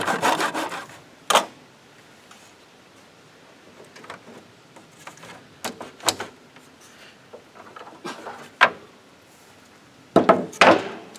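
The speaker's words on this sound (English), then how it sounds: "we'll go ahead and cut this in 2." A hand saw cuts through wood held in a miter box, making scattered rasping strokes with short pauses between them and a quick burst of faster strokes near the end.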